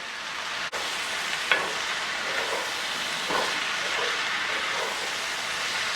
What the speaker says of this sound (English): All we want to do now is stir that to make sure everything is coated in that garlic, onion infused olive oil